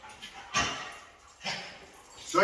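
A dog in training gives three short barks or yelps spaced about a second apart, close and fairly loud, with quiet whimpering between.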